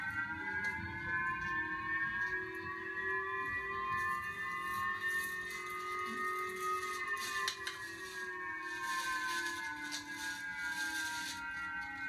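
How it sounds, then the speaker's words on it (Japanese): A Japanese civil protection warning siren for imminent armed attack wails steadily, its layered tones slowly rising and falling, alone and continuous throughout. "武力攻撃が迫っている地域へ注意喚起をするための国民保護サイレンです"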